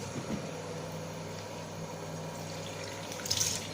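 A toothbrush is rinsed under a running tap, a faint, steady stream of water with a brief louder splash near the end.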